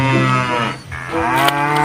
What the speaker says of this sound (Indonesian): di sini ada suara sapi